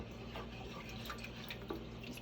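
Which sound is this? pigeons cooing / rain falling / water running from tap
water running from tap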